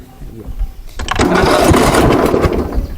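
A riding lawn mower tractor engine starting up and then running steadily, loud and close, with a rough mechanical rumble that swells after a quiet opening and holds, with a voice briefly heard.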